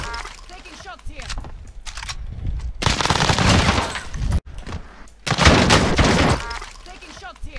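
Bursts of automatic gunfire in the video game Warzone, two long loud rattling volleys separated by a brief pause, with a player talking between and over the shots.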